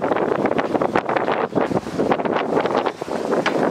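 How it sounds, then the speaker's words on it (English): Wind buffets the microphone outdoors in steady gusty rumbling for nearly four seconds, loud and close, with no talking. "The wind."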